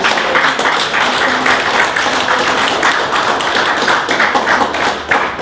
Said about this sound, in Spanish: Un fuerte aplauso, Rey de Reyes.